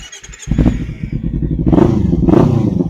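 A 2017 Kawasaki Ninja 300 ABS engine cranks and fires up after a brief quiet moment, then settles into a steady, close idle with a couple of light throttle blips.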